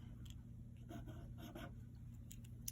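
Faint marker or pen strokes as a teacher writes a word during an elementary English lesson, a few soft scratchy bursts over a steady background hum.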